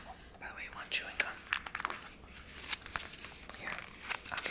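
A chewing gum packet is handled up close, giving crinkly, crumpling plastic and paper rustles in bursts amid soft whispered talk in a quiet room.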